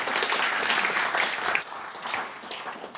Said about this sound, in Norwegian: Applaus til deg.